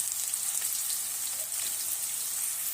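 Onion and green chillies frying in oil in a pan for a potato curry, giving a steady, dense sizzle and crackle that stays even throughout and cuts off abruptly at the end.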